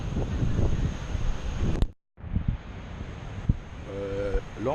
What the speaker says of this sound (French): Le vent se lève, donc ça vient vraiment nous rafraîchir.